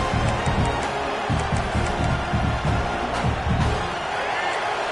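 Home stadium crowd at a Michigan State vs Oregon college football game roars steadily and loudly on a third down, with rhythmic low thumping pulses beating through the sustained din.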